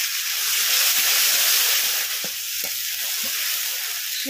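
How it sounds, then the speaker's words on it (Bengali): Whole cumin, dried chilies, a bay leaf and chili paste hitting hot oil: a loud, dense, close hissing sizzle that stays strong throughout, with a few light stirring taps in the second half and no talk. "তেল গরম হয়ে গেছে, তেলের মধ্যে দিয়ে দিচ্ছি গোটা জিরে, শুকনো লঙ্কা আর একটা তেজপাতা, দিয়ে দিচ্ছি লঙ্কা বাটা"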